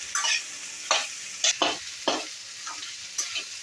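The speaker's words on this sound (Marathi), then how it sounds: "आपल्याला ती भिंडी भाजून घ्यायची आहे तेलामध्ये" Okra fries in oil while being stirred, giving a series of short, bright scraping and sizzling bursts at irregular intervals over a soft background hiss, close and clear.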